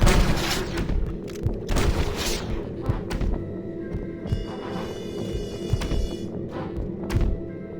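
Revolver fire with Dead Eye lock-on in the Red Dead Redemption mobile game: a string of heavy booming shots and thuds at an irregular rhythm over a dense, constant game soundscape.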